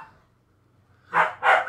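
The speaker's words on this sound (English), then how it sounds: "I do have 2 dogs. Now they're going at it." Two dogs barking in a pair of loud, close bursts after a near-silent pause, with no talk over them.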